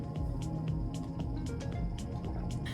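Someone drinks from a tall glass of water at night, making a quiet run of small wet gulps and liquid clicks at a fairly regular pace.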